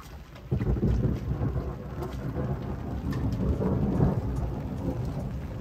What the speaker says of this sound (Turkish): Acayip yağmurlu bir hava var. Yine şimşekler çakıyor.